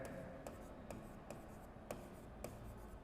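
Pen scratching steadily on paper while a maths problem on stream and path lines is worked out, a faint continuous rub broken by a few sharper taps, close and quiet with no talk.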